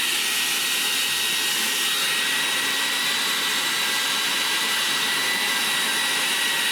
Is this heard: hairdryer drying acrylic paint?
yes